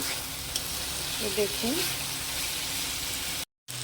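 Soybean chunks and potato sautéing with spices in a pan give a low, steady sizzle throughout, with a faint voice murmuring briefly partway through and a sudden drop to silence near the end.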